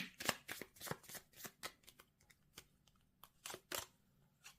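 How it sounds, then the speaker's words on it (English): Tarot cards being shuffled by hand, a quick run of crisp riffling flutters and slaps, close and fairly quiet with no talk. "Cards are flying."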